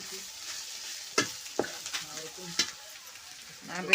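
Red onions and potatoes frying with red chilli masala powder in a pan over a wood-fired chulha, a low continuous sizzle broken by several scraping stirs of a spoon.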